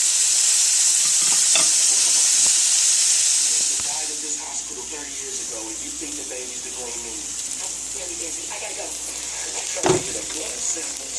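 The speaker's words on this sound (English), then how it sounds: "we're stir frying the veggies" Vegetables stir-frying in oil in a skillet for black bean jajangmyeon noodles give a loud, steady sizzle and hiss, with occasional stirring clatter and scrapes and a sharp knock near the end.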